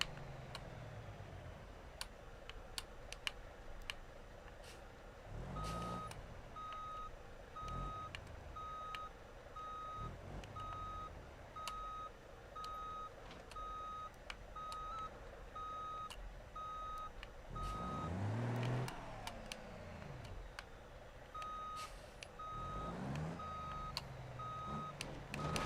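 A truck's reversing alarm beeps in a steady, regular rhythm while it backs a trailer in the BeamNG driving game, with engine rumble and a few louder thumps underneath.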